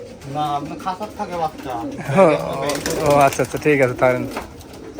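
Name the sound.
Giribaz high-flyer pigeons at a pigeon farm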